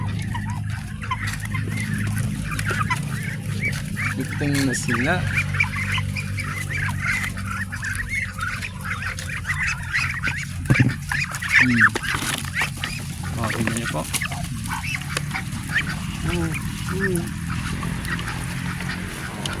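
Ducks and geese honk and quack continuously around a feeding flock eating azolla, with a person speaking briefly over the steady, busy chatter.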